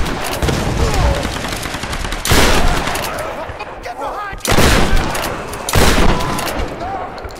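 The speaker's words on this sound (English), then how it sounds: "Watch out, she's got a shotgun!" Shotgun gunfire in the Tomb Raider video game, several loud blasts spaced a second or two apart over a dense background of game effects and combat noise.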